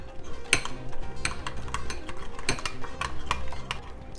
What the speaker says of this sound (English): I'm gonna go ahead and stir this up